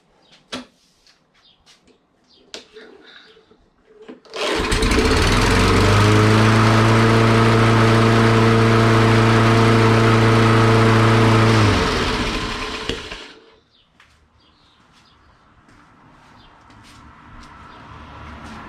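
A Toro Recycler lawn mower engine catches and runs loudly for about eight seconds at a fast, steady idle, then cuts off abruptly, with quiet clicks and handling noises before and after.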